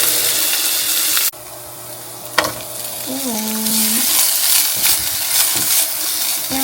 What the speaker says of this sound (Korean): 새우도 같이 볶아서 익혀줍니다.